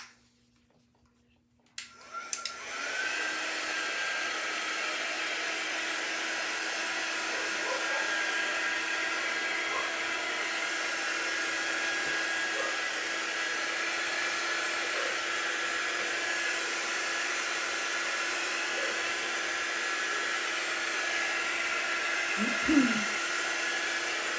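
A hair dryer blasts to dry chalk paste on a jar, switching on after a moment of quiet and then running as a loud, steady whooshing hum for over twenty seconds, alone without talk.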